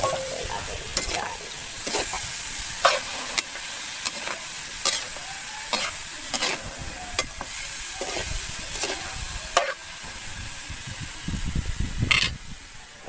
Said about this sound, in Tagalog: Tapos, haluin natin siya.